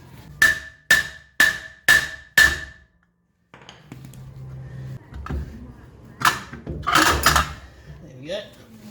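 A brake drum on a Mk2 Ford Escort, tightened up and being hammered from behind to free it, rings out with five close, sharp metallic strikes in a steady rhythm, followed by quieter clattering and knocks.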